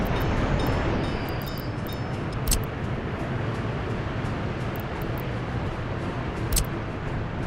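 Construction trains rumble along in the Workers and Resources city-building game: a continuous, loud low-frequency rolling drone with occasional brief higher clanks, no talking.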